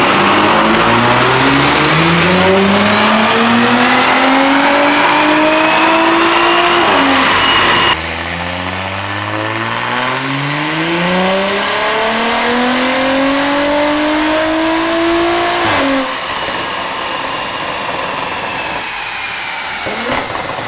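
Tuned car with a TTE810 turbo, high-flow catted downpipe and Integrated Engineering Stage 3+ tune roaring on a dyno, two long loud pulls rising steadily in pitch, each cut off abruptly before settling to a lower drone.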